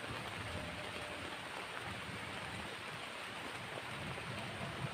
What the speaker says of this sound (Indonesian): malah ya hujan gitu